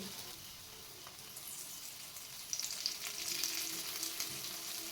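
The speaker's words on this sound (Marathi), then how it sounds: "आता दुसऱ्या बाजूनं सुद्धा मीडियम गॅसवरच भाजून घ्यायचं" A paratha roasts in oil on a hot tawa over medium gas, giving a steady crackling sizzle that grows louder and more spattering halfway through, with no voices.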